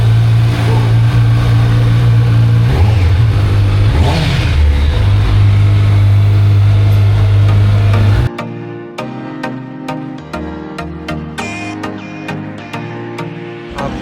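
A Kawasaki Z900 motorcycle, a 2026 model, revs its exhaust loudly and up close, with a strong steady drone that rises and falls. The note then drops to a choppier idle punctuated by sharp blips.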